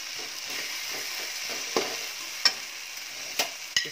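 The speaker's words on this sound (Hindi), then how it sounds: "हल्का सा इसे भूनेंगे, टमाटर हमारा गल जाए थोड़ा ठीक से गल।" A tomato masala fries in a pan and sizzles softly and steadily, while a spoon stirs it with a few sharp scrapes and knocks spaced through the sizzle.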